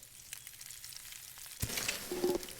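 Food frying in the video game Above Snakes while a huckleberry bowl is cooked: a sudden, steady sizzle starts partway through and carries on to the end after a quiet stretch.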